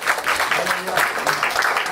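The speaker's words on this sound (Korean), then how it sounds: "박수 한번 치겠습니다." A church congregation at a Sunday service claps together for a couple's wedding announcement, a dense, steady patter of many hands filling the room, with some voices mixed in.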